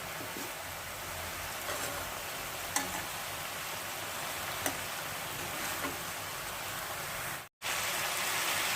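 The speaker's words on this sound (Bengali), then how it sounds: "আর একটু ভাজা ভাজা হোক।" Cauliflower fries in a pan for a hot roast, a steady dense sizzle that hisses evenly throughout, with a few faint clicks of stirring and a momentary dropout near the end.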